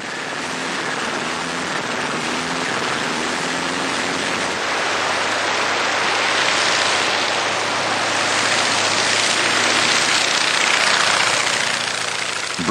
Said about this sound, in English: Eventually, the crew gets the Sopwith Camel airborne